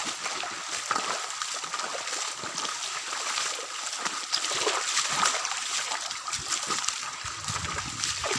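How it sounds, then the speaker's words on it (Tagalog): Continuous rushing and trickling water from a river running over large rocks, steady and fairly close with no talk. "Sinusundan lang namin yung ilog."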